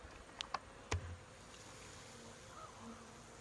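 Honey bees buzzing around a hive fed from a gallon syrup pail, with a few sharp close buzzes of a bee passing near, then a soft steady insect hum, no talk.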